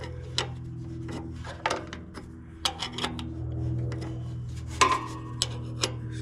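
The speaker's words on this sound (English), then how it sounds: "So we'll take that filter off next. Put your wrench on there." A wrench turns the oil filter off a John Deere Z910A zero-turn mower, making faint rubbing, scraping and metallic clicks in an uneven rhythm over a low steady hum.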